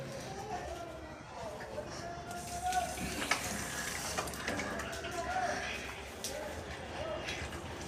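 Water splashes and runs steadily into a pot of cooking mango curry, a soft continuous pour under nearby talk.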